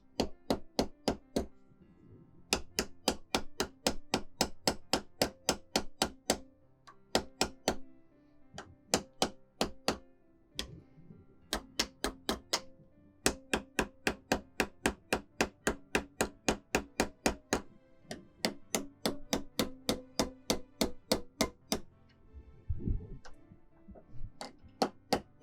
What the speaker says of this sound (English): Now, I'm pretty much just gonna hammer these down straight.